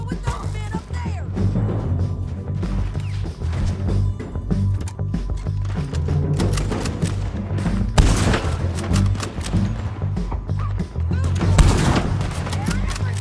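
Gunfire fills a Red Dead Redemption 2 shootout against men up on a ridge, with dense overlapping rifle and pistol shots, rapid bursts and heavy booming blasts that stay loud and nearly constant throughout, with voices shouting underneath.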